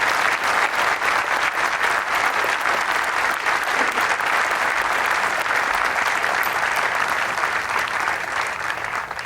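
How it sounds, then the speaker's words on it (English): Sustained applause from a large crowd honoring soldiers at a 101st Airborne Division change of command ceremony at Fort Campbell, steady dense clapping holding for several seconds without letting up. "Please join me in another round of applause for these great soldiers."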